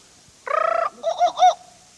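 A sharp, rapid trilling call is followed by three hollow hooting notes, clear and close against silence, like an exotic jungle bird.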